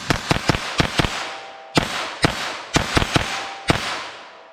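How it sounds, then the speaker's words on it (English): Twelve Federal .22 LR rounds fired from a handgun, sharp close cracks in quick clusters of two to four with short pauses between groups, each shot trailing a brief echo. "let's see, 12 rounds here with our 22 LR."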